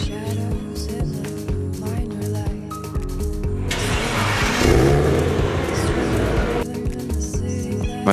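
Mercedes W203 C55 AMG being delivered, its engine revving in a loud surging burst midway among nearby background noise and some voices.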